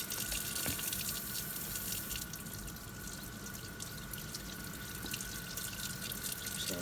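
Water runs steadily from a tap while pottery glaze is rinsed out, a continuous hissing stream with faint drips and splashes, fairly quiet and close, with no voices.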